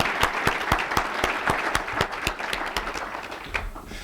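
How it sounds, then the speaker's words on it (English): Press conference crowd applause, a room of people clapping in a lively, uneven patter with a few sharp individual claps standing out, steady throughout. "Let's give them a round of applause."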